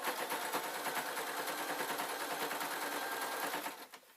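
A sewing machine stitches a fold around a circle on a Tam hat with a rapid, steady chatter, close and moderately loud, then slows and stops near the end.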